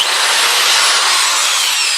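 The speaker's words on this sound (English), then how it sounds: "So you're actually using the top of the sander." A disc sander grinds steadily against a rough piece of elm, producing a loud, continuous abrasive hiss close up with no pauses and no talking.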